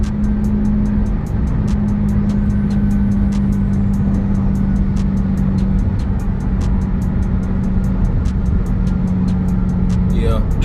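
A Dodge Durango Hellcat is driven at night with its engine pulling hard, a loud, steady, dense rumble with a droning tone that holds for the whole stretch. Traffic and road noise run underneath, and voices are heard over the engine.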